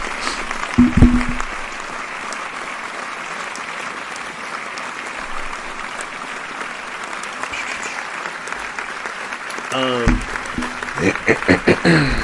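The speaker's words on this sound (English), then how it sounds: "Let this applause track go." A canned applause track from a podcast episode plays as a steady wash of clapping and crowd noise that lasts several seconds, with a short burst of speech near the start and more talk returning at the end.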